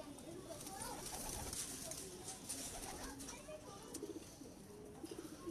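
Pigeons of a home-bred Mian Nazeer bloodline coo in a loft, low murmuring calls repeating steadily at close range under a busy ambient wash, with a voice talking over them.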